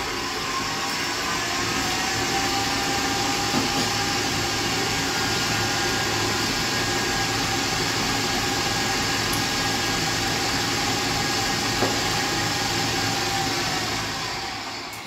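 Stand mixer running at high speed while beating Christmas cake batter, a steady loud motor whir that holds unbroken for the whole stretch with no talking.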